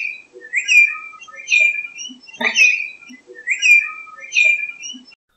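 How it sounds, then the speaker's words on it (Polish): A twenty-eight parrot repeats its bright, whistled two-part call several times in a rhythmic series, close and clear against silence, with chirpy squeaks between phrases. "jeden z podgatunków tej właśnie papugi wydaje dźwięki przypominające angielską wymowę liczby 28"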